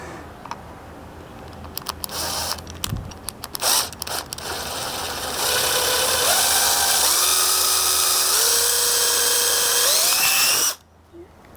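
After some clicking and handling noises, a power drill whines steadily at close range while drilling into plastic, its pitch stepping up in stages before it abruptly stops.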